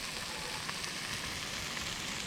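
A campfire at a remote bush camp on a 4x4 off-road trip crackles steadily, a dense continuous sizzle with small pops throughout, close and alone with no talking.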